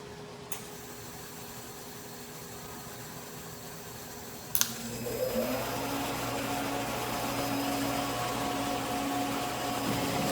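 Automated hot wire TIG welding on 4-inch Schedule 40 pipe, with a sharp click as the arc strikes partway through, followed by a steady, even hum and hiss from the weld that continues to the end.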